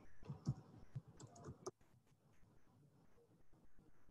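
Keys on a computer keyboard being pressed to type a short word, a quick cluster of soft clicks early on that trails off into quiet room tone.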